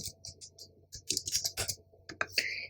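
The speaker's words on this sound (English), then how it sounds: "you just click in the box and start typing." Fingers tap keys on a computer keyboard in a short, irregular burst of light clicks, close and quiet, with a faint background hum.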